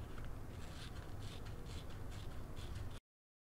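Scissors cut a portion out of a paper image for a collage, a close, continuous rasping and scraping of blades through paper with faint rhythmic snips, ending abruptly in silence.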